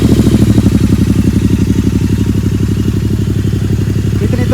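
A Royal Enfield GT 650 fitted with a loud Gurusewak exhaust idles close by, its twin-cylinder thump deep and steady with a rapid even rhythm that stays loud for the whole stretch.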